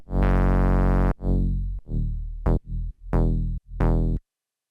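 Synth bass in a breakbeat track, its sustain automated, so each distorted note hits hard and then decays at a different rate. There are about six notes, some long and some clipped short, and the last one cuts off to silence.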